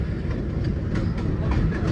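An MTA R1/R9 subway protection train passes close by, a heavy, steady rumble with rhythmic wheel clatter and no talking.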